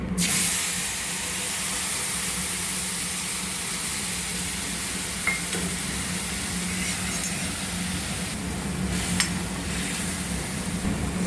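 Soaked spices added to a hot pan of browned base for a home-cooked dish, giving a loud, steady hiss and sizzle that holds throughout, close up with faint clinks near the end and no talk.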